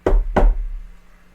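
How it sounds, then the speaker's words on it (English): A small fist raps twice on the driver's side window of a van. The two sharp, close knocks are followed by a brief fading resonance, with no voices. "the small fist that knocked at the driver's side window"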